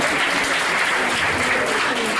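A dense, steady burst of clapping from a church wedding congregation praising Jesus, loud and continuous throughout with no break.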